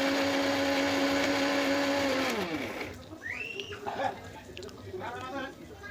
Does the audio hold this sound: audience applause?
no